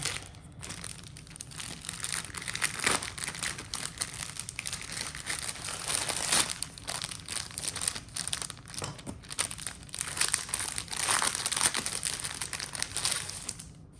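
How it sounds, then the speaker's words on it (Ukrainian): Parcels from an order being unpacked, with steady crinkling and crumpling of packaging material and occasional tearing, close and continuous for the whole stretch, with no one talking. "зараз робимо розпакування"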